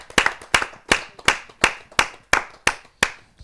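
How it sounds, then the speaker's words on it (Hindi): Steady, evenly spaced clapping at a Hindi kavi sammelan (poetry gathering) welcomes a guest. About nine sharp, close claps fall in a regular rhythm, each with a short echo. "आइए हम जोरदार तालियों से उनका स्वागत करते हैं।"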